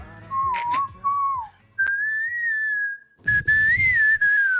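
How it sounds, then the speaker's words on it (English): A person whistles a bright, catchy melody in sustained phrases, briefly pausing between them, close and clear. "Who was whistling?"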